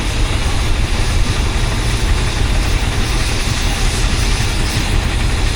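A vintage tractor engine rumbles steadily at idle at a steam rally, loud and continuous with a deep low throb and no pauses.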